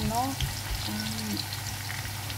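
Sweet potato frying in oil, a steady, fairly quiet sizzle that runs throughout with faint popping, while a person talks briefly at the start.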